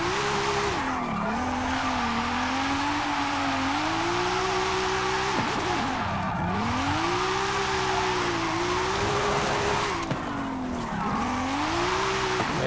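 A 2020 Audi TT RS tuned beyond 1200 horsepower revs hard and spins its rear wheels, the engine note rising and falling in repeated surges while tires squeal continuously, loud and close with no voices.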